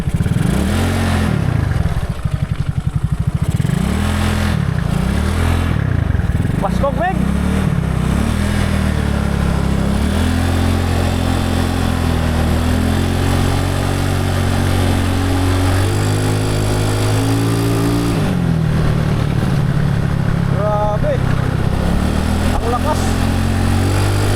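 A modified Mio Sporty scooter engine revs hard and close in repeated rising and falling bursts, loud and raspy with a clattering exhaust note, while someone talks over it.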